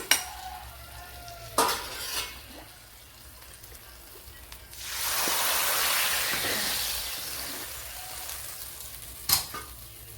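Pumpkin curry is stirred in a pan, with scraping spoon strokes at the start and end framing a loud, steady sizzle that swells in the middle and holds near and continuous.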